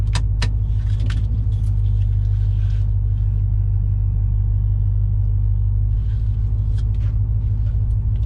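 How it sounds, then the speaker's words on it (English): Supercharged 3V Mustang GT with a swapped 6R80 transmission idling while warming up, a steady deep rumble close by, with a few brief clicks and rattles early on. "car just needs to be at operating temperature, which I've been letting this idle for a bit"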